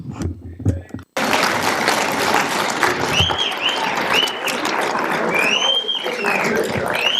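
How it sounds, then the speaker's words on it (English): Audience at an Africa Day celebration for the OAU and African Union anniversary bursts into sustained applause after a brief spoken moment, with the clapping staying full and steady while a voice speaks over it. "us please applaud."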